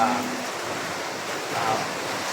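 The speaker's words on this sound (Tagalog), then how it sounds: "medyo pumalma na ang hangin, medyo panaka-naka ang ulan, hihina, lalakas, hihina, lalakas" Typhoon wind and rain around a house in Lipa City, Batangas, a steady broadband rush with slight swells and falls in strength, continuous and fairly close, with no voices.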